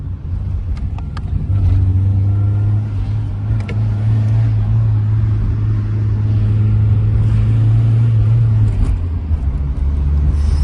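A Tofaş car driven hard on the road, its engine droning loud and close with a steady low rumble, revving up and dipping briefly as a gear is shifted.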